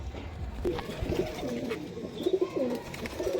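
High-flying pigeons from Punjab, a pair being let go, give soft throaty coos in a short, quiet burst over faint background noise.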